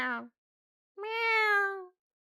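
A voice imitates a cat, giving a brief clipped meow and then a longer, drawn-out, clear meow, close and alone with silence between them.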